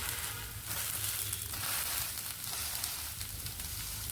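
Dosa batter of millet, red rice and urad dal sizzling on an oiled griddle, a steady close crackle and hiss that carries on without pause.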